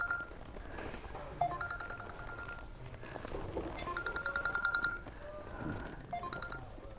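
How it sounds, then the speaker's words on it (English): A telephone rings indoors in a series of electronic trilling bursts, moderately faint and repeating, with a little background noise and brief voices around it. "I think that might be your phone"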